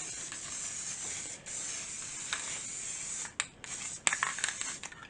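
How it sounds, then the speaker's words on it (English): A spray paint can sprays black paint onto a painting's foreground, hissing almost continuously, close and steady, with brief pauses and small clicks and rattles toward the end. "I'm going to spray a little bit of black in there"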